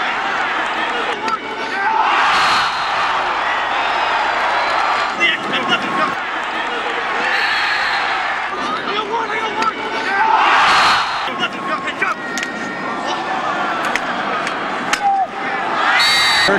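Crowd at a Syracuse lacrosse game cheers and roars steadily throughout, swelling into louder bursts of applause and shouts, with a commentator talking over the noise.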